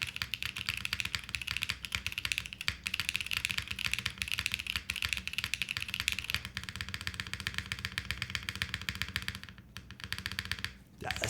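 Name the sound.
typing on Think6.5 V3 mechanical keyboard, deep spacebar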